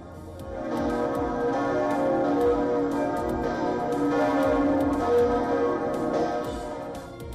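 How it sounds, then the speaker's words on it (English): The bells of Notre Dame cathedral in Paris ring together after the 2019 fire, a loud, steady peal of overlapping strikes that holds for several seconds with no voices. "The bells of Notre Dame in Paris ring out together for the very first time since a 2019 fire that devastated the"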